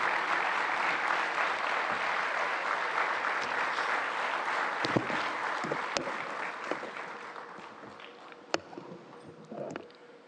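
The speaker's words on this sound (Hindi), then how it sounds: "तालियों की गड़गड़ाहट से एनडीटीवी वर्ल्ड समिट के इस मंच पे स्वागत कीजिए" Audience at the NDTV World Summit in New Delhi applauding to welcome Prime Minister Narendra Modi, loud sustained clapping from a large crowd that tapers off, leaving scattered individual claps and faint knocks at the end.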